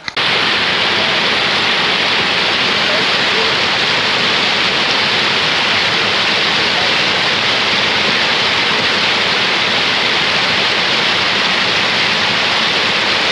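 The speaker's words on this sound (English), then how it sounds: "there's flowing water and a mini waterfall over there" Steady broadband rush of water from a flowing stream and small waterfall on the Mandakini Ganga, continuous and close, with no voices over it.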